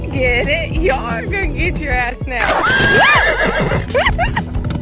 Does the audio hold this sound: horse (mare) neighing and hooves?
yes